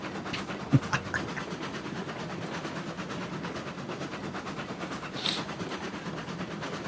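Train rolling along rails in the Railroads Online video game: a steady rumbling run with rhythmic clickety-clack from the wheels and a couple of sharp clanks, heard without talk.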